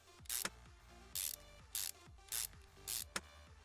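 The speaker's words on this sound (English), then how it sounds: "A few bolts to bolt that back on." Ratcheting bolts are driven in one after another while the timing cover goes back on in Car Mechanic Simulator 2021, giving five or six short, loud mechanical bursts with brief pauses between them.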